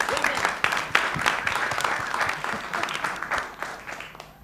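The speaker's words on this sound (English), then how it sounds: "So give him a round of applause." An audience at a theatre-scene panel breaks into applause, a dense burst of clapping that swells then gradually thins out over several seconds.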